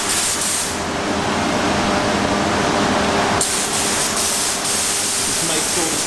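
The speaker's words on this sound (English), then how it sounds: "Make sure the spray is coming out correctly." Steady, loud hiss of a spray gun applying Raptor coating to a car, running continuously up close with a brief change in tone partway through.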